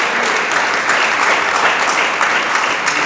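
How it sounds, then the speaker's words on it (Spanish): A church congregation claps steadily and loudly throughout a Spanish-language sermon, the dense applause filling the whole moment with no voice rising above it. "Dele palmas al Señor."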